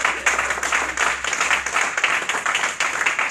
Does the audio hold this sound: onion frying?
no